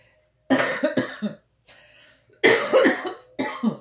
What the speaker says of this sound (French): En plus, il faut que je tousse.